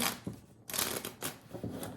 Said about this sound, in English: we'll try that shuffle again